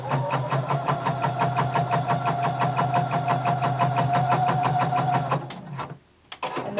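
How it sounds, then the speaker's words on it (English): A sewing machine runs fast and steadily through fabric, its rapid, even stitching rhythm close and continuous for about five seconds before it stops, leaving a brief faint rustle. "I'm going to sew all the way till I reach this other dot."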